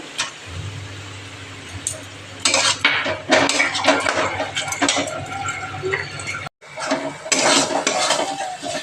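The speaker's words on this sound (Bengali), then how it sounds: "ঠিক আছে, এই মশলাগুলোকে ভালো করে ভেজে নিই।" Ginger, garlic, onion and spices are fried and stirred in a pan. A metal utensil scrapes and clatters repeatedly against the cookware in irregular bursts, with a low hum beneath and no speech.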